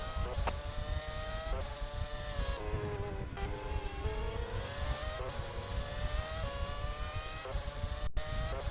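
Several engine notes from cars in an F1 RTS video game race at the Canada Grand Prix, a steady layered whine with rising and falling pitch as the cars pass, loud and continuous with no talk.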